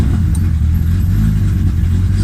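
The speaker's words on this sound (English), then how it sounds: "let's start the car." Toyota 2JZ engine in a car being converted from naturally aspirated to turbo runs with a steady loud low rumble throughout, close by, with no talking.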